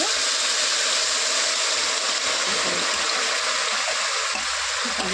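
Grated carrot hits hot ghee in a wok and sets off a loud, continuous sizzle, a bright frying hiss that stays steady throughout with no talk over it.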